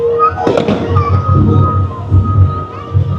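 Sharp bursting bangs of fireworks ring out near the start, followed by a rumbling crowd and excited voices beneath a steady hum, at Chimelong Ocean Kingdom theme park in Zhuhai.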